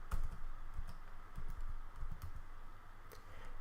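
A computer keyboard is typed on at a Linux terminal, with quiet, irregular key taps in short bursts over a low, steady background hum.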